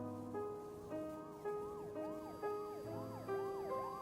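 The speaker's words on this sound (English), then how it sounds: "A siren coming from behind." A police car siren wails in the video game Ghostpia, its rising and falling cycles repeating steadily about every half second, fairly faint and with no speech.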